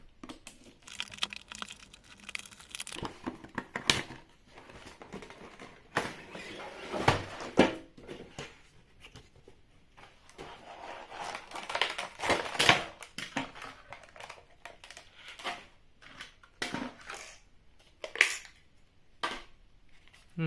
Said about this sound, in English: Now let's unbox it.